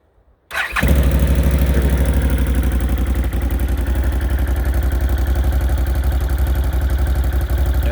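A 2015 Can-Am Outlander 800R ATV in an XMR build, its exhaust screen busted out, fires up after a brief silence and settles into a loud, close, steady idle with a rough, throbbing exhaust note.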